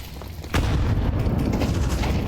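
Gunfire in a Counter-Strike 2 professional match with Berettas pistols, heard as a sudden loud blast followed by continuous dense rumbling and crackling shots.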